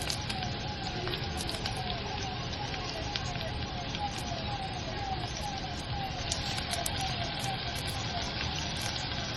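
Onion and tomato sizzling in a hot pan while dal is prepared, a dense crackling hiss with scattered pops that continues evenly throughout.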